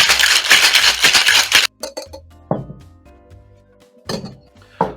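Ice rattles hard inside a cocktail shaker for a lime cordial drink in a dense, rapid burst, then stops and leaves a few scattered thunks and clinks.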